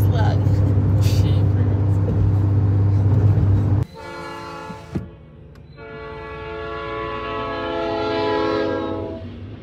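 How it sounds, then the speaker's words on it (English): Passing train with a long, loud horn blast while a car is out on a Pennsylvania road trip: heavy rumbling rolling stock first, then the sustained multi-tone horn sounding twice, fading slightly toward the end. "How long is this train gonna last?"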